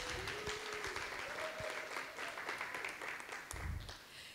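Audience applause at an arts panel discussion on the political, a steady wash of clapping throughout, fairly distant and even, with a brief louder swell near the end.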